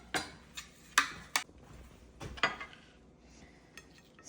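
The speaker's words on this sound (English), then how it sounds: "So I'm going to show you how to cut the okras." A knife cuts okra on a board, making a handful of sharp, separate taps and clicks spread irregularly over a few seconds, close and fairly quiet, with no talking.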